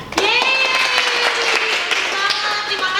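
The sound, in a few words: children's Sunday school audience applauding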